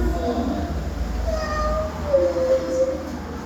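Cat meowing on stage in a theatre play, a couple of drawn-out, rising-and-falling meows, moderately close, over a low background hum and room noise.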